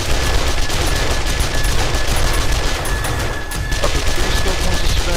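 SMG fire in the zombie survival game 7 Days to Die, a dense, continuous rattle of rapid shots lasting the whole stretch with little letup, loud and close.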